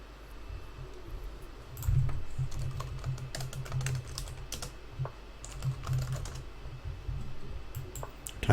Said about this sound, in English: Typing to somebody here while running out of time.